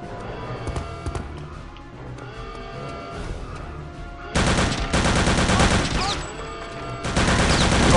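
Dense bursts of gunfire from Return to Castle Wolfenstein, a World War II shooter set against Nazi soldiers, with rapid shots layered over game music and growing louder and heavier in the second half.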